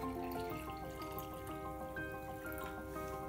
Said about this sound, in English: First, fill the tall glass 3/4 full with hot water.